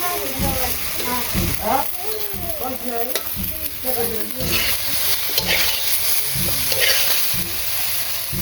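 Eggplant slices frying in a pan in a Bangladeshi village kitchen, a continuous oily sizzle with scraping and stirring strokes of a utensil recurring throughout.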